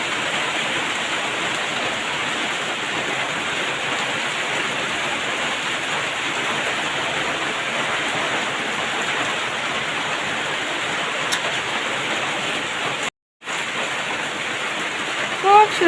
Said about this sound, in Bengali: তারপর দেখো কীরকম বৃষ্টি পড়ছে।